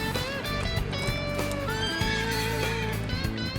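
Several horses being readied by riders before the Rose Parade neigh and whinny loudly and close by, with overlapping calls and some hoof clatter throughout.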